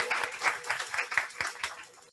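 Congregation in a Sunday Christian worship service claps together in a lively burst of applause, rhythmic hand claps close and fairly loud, fading out at the end.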